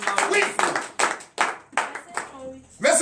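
Congregation clapping together in acclamation during a morning prayer service, several bursts of hand claps in steady rhythm, with voices mixed in.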